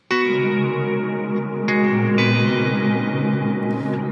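A Strymon reverb pedal with its shimmer shifted down one octave washes a guitar in dense, swirling reverb and chorus-like smear, with a few fresh strummed attacks blooming into a lower, pitched tail.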